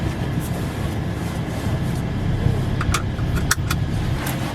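Lamborghini supercar, a steady low engine and road rumble filling the cabin with a few brief metallic clinks and rattles near the end, no talking.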